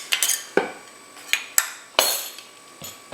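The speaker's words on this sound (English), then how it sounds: "we're going to get it all mixed up in this bowl" Potatoes being mixed in a bowl with a metal utensil make sharp clinks and knocks, about half a dozen bright, close strikes spaced irregularly, each ringing out briefly before the next.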